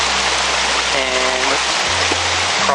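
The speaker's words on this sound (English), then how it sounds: "just crossed the stream here" A mountain stream on the Lincoln Brook Trail in New Hampshire's White Mountains, a steady broadband rush of flowing water close by, with a few faint tonal chirps over it.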